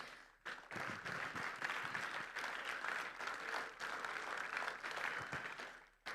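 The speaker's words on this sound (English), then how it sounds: "if our judges would please come through so we can give them a big round of applause" A crowd applauds judges at a FIRST Tech Challenge robotics qualifier, dense, even clapping rising quickly and holding steady for several seconds, heard from a distance in a large hall.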